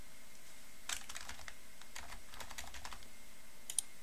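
Quiet, close typing on a computer keyboard, several short bursts of key clicks with brief pauses between them, no voices.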